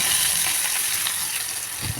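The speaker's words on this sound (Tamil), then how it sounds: "நல்லெண்ணெய் 2 ஸ்பூன், கடுகு 1 ஸ்பூன், கடுகு பொரிஞ்சதும் கருவேப்பிலை சேர்த்துடலாம்." Mustard seeds and curry leaves frying in sesame oil while making chutney: a dense, steady crackling sizzle with faint popping throughout, loud and close with no voices.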